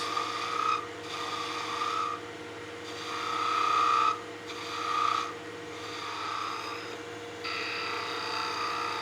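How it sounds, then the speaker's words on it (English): A woodturning gouge rounds over a wooden spinning top on a lathe, a steady motor hum under repeated scraping cuts that rise and fall in several strokes of a second or two each. "Using the nose of the gouge just to round this over"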